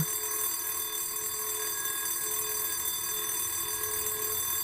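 An electronic alarm ringing without a break at a steady, fairly loud level. The shrill, sustained tones hold for several seconds and no one speaks over them.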